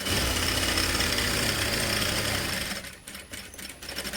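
A sewing machine stitches satin with a cotton lining in a fast, steady mechanical whir, up close, that slows and stutters toward the end.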